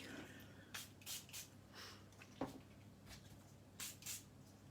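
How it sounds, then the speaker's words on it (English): Several short hissing sprays, in quick pairs, from a nearby spray bottle, with quiet handling sounds between them. "we'll just spray them with some water"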